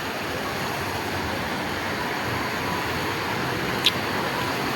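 Water rushes over rocks in a steady, dense roar that fills the scene without a break, with one brief sharp tick near the end.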